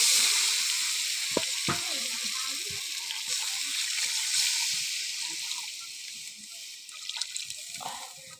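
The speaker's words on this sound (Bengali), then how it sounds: "এবারে আমি ঝোলের পানি দিয়ে দেব পরিমাণ মতো।" Water poured into hot curry in a pan sends up a loud, steady sizzle that slowly fades, with a few knocks of a utensil and light bubbling.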